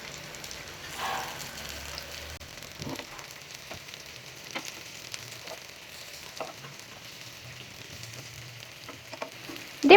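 Raw banana slices frying in a pan after being turned over, giving a soft continuous sizzle with scattered small crackles and a few faint taps, close but fairly quiet and with no voices.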